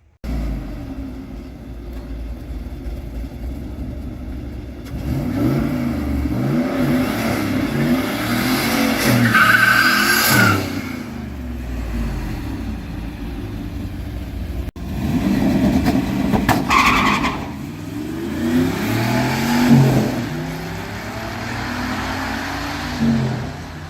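Turbocharged Ford Falcon with a five-speed manual racing around a track, engine droning and revving in long pulls with gear changes, loud and close throughout with a steady roar underneath.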